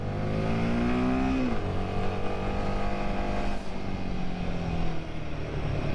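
Engine of a 2024 Royal Enfield Himalayan motorcycle revving, a loud steady drone that rises in pitch then drops back and holds, close and continuous with no talk.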